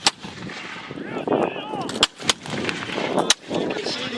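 Cannon fire booms out at a 250th anniversary Bunker Hill battle reenactment in Gloucester, Massachusetts, with several sharp loud blasts spaced a second or so apart over a busy outdoor crowd and field noise.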